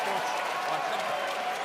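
A crowd at an NBL basketball game between the New Zealand Breakers and Melbourne United jeers in a dense, sustained roar of voices, with a commentator talking over it.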